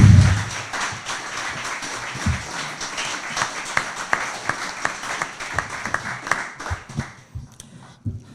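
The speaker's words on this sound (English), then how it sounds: "let's give all these candidates another round of applause," At a city council candidate forum, the audience gives a round of applause that starts strong and thins into scattered individual claps before dying away.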